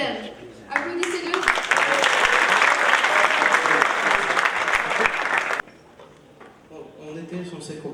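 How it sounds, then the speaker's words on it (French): An audience at a Wikistage talk in Mostaganem breaks into loud, dense applause for the next speaker. It swells after a second and holds steady for about five seconds, then drops sharply into quieter room noise and talk. "Alors, Yassir Abdeslam, applaudissez-le."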